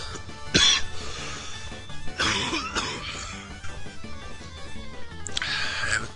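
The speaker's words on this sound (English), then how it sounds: "I have a terrible cough." A person coughs in several harsh bursts, one sharp hack early, a longer fit in the middle and another near the end, close and fairly loud with quieter game sounds under it.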